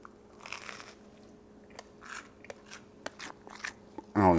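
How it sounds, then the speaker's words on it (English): Crunchy bites into a cheesy grilled cheese sandwich, a few sharp crisp crackles spaced across a quiet moment, close and clear, ending in a louder burst of noise. "I don't know if you guys could hear my crunch"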